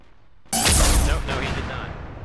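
A loud, sudden blast of Arma 3 gunfire in a Warhammer 40k modded battle bursts out after a quiet start, followed by a roaring, rumbling tail that slowly decays.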